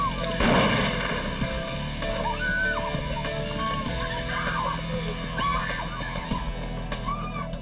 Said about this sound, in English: Inside the cockpit, Razak reacts to the sound of gunfire.